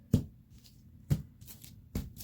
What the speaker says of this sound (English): let's shuffle this deck just in case I feel like using it